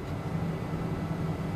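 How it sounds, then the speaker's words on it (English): Steady rolling rumble of a tram driving through a city in Tram Simulator Urban Transit, a continuous low mechanical drone and road noise, moderately loud and even throughout with no voices. "Okay, so we're just driving around here on the tram."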